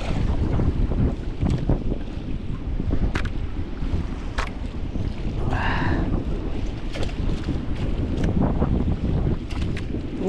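Steady, loud wind roars and buffets the microphone throughout, with rushing water and brief clicks and knocks underneath.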